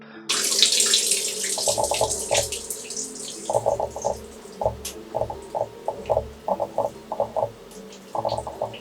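Water runs steadily from a tap during a second hair wash to clear scalp buildup, a close splashing flow broken by rhythmic squelching and sloshing as the hair is worked under it.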